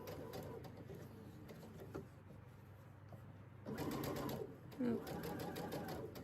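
A sewing machine stitches fabric along a curve, running with a rapid mechanical whir in two stretches separated by a pause, fairly quiet, with a brief voice heard in between.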